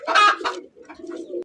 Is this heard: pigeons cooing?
yes